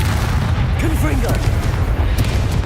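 A Confringo blasting spell explodes in Hogwarts Legacy, heard as a loud sustained booming rumble under a spoken voice, with dense low-end energy throughout.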